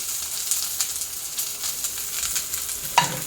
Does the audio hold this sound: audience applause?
no